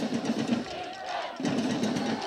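Stadium crowd at a 2006 Hand vs Derby high school football game cheers in a steady, rising roar, with a brief dip before the noise swells again.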